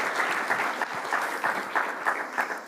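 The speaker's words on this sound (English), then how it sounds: "Did you hear the applause, even without saying a word yet?" Conference audience applauding at a humanitarian action event, dense, steady clapping from a full room that holds at an even level throughout.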